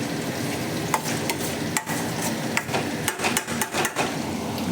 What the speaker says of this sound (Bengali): ধোকা ভাজা হয়ে গেছে।